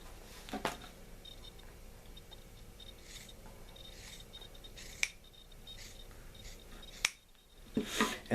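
Scissors snip through dense leather while a sporran piece is cut out, making sparse, faint crisp cuts and soft rubbing close by in a quiet room.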